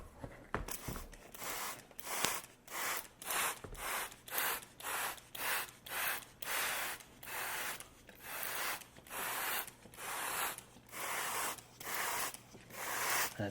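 A hand sprayer mists water onto microgreens in a rapid series of short, regular squirts, about twenty bursts with brief gaps, close and fairly quiet.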